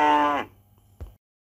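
A dairy cow gives a single loud, harmonic moo lasting under half a second, followed by a short low thump and then near silence.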